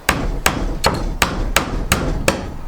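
Seven sharp hammer strikes on thin finishing nails at a steady, fairly quick pace, close and loud, each a crisp metallic tap.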